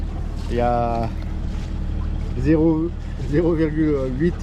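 A small boat motor runs on a large lagoon near the Marignane channel, a steady low drone with wind noise underneath someone talking.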